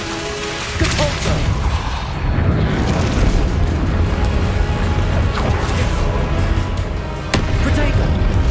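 A Depulso force spell blasts in Hogwarts Legacy amid a dense, loud, continuous roar of booming combat effects, with sharp bursts near the start and again toward the end.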